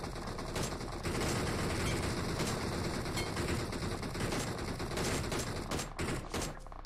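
Dense, continuous gunfire from a large PUBG Mobile army battle with M249 and DP-28 machine guns, sustained bursts and volleys filling the whole stretch, loud and close, with a few sharper cracks near the end.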